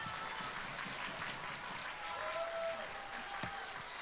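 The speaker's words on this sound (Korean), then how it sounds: "박수로 맞이하겠습니다" Applause from a church audience at a Christmas Eve celebration, welcoming a child onto the stage; a steady patter of clapping fills the room with some voices mixed in.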